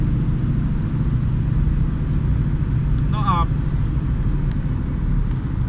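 Steady low road rumble from a car driving along a highway in Poland, heard from inside the cabin, with a brief voice in the middle.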